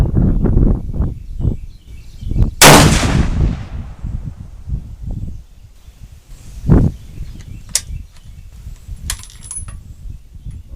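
A Krag–Jørgensen rifle fired at an outdoor range, one sharp loud report with a trailing echo, followed by a smaller clink and faint background clatter.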